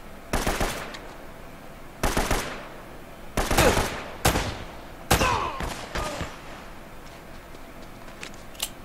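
Bursts of gunfire in the video game Uncharted: Drake's Fortune, several loud, sharp volleys and rapid automatic rattles separated by brief pauses, fading to quieter shots at the end.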